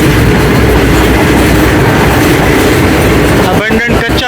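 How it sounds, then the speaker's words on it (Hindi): Karachi Express economy-class passenger train running between Multan and Lahore, a loud steady rumble with continuous rail noise throughout; the wheel rhythm grows sharper and more broken near the end. "Close to reality होता है रेल का सफ़र, स्पेशली इकॉनमी क्लास का।"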